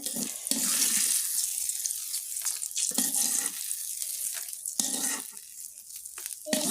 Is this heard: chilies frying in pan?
yes